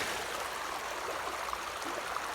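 The Ubort river flows steadily nearby, a soft, even rush of water at low level with no voices over it.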